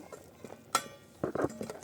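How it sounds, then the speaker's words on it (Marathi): A spoon stirring village-style chicken curry in a metal pot, giving a few sharp clinks and scraping knocks, close and fairly quiet, with a short cluster of taps near the end. "एकदा हलवून घेऊ"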